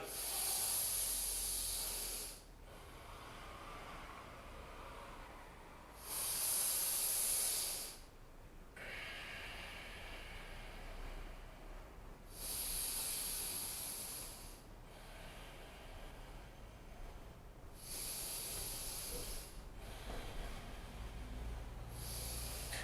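Deep, slow breaths during a yoga stretch with arms reaching overhead: five loud, airy, hissing breath cycles, each a long close inhale and exhale separated by quieter stretches, with no talking.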